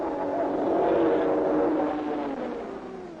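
Racing engines roar at the 1959 Le Mans race as Moss's Aston Martin leads two Ferraris, a loud, sustained engine drone swelling then easing slightly as the cars pass.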